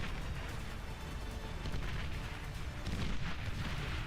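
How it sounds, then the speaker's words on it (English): Mines explode in a video game, a dense rumbling roar of blasts and booms rolling continuously for several seconds without pause. "Oh man, it's gonna be a big explosion."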